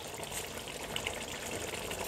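A soft stream of liquid pours steadily into a cooking pot of Nigerian stew with a faint splashing trickle, quiet and close.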